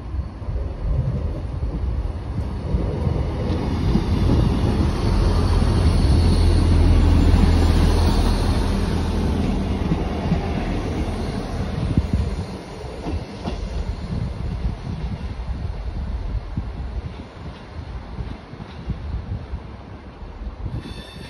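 A passenger train runs through Eastleigh station, a long rumbling pass with rhythmic clickety-clack of wheels over rail joints, swelling loud at the middle then easing off, with wind buffeting the microphone throughout.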